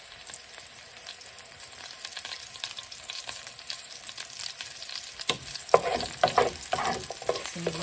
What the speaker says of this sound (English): keep stirring it occasionally so it's not brown